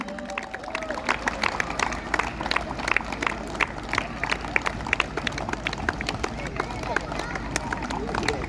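A crowd at a district-level football tournament closing ceremony gives the winners a steady, dense round of clapping and cheering that lasts throughout, with voices murmuring in the crowd.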